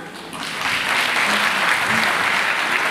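An audience at a stage performance applauds dancers, a loud, steady wash of clapping that swells in quickly and holds without pause.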